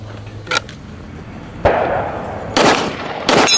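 Rifle shots at a DMR shooting match ring out close and loud, a single sharp crack followed by two more spaced reports about a second apart, each with a short outdoor echo over low background noise.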